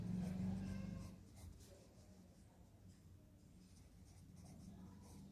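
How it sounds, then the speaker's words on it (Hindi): A pen writes names on a paper tracker sheet, giving soft, close scratching strokes at a low level against a quiet room. "हम यहाँ उनके नाम लिखते जाएंगे।"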